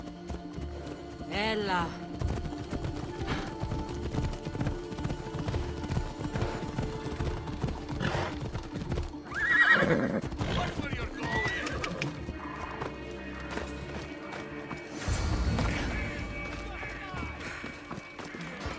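A horse in Assassin's Creed Odyssey gallops with rapid hoof clip-clops and whinnies loudly twice, the running steady throughout under a short spoken word and game sounds.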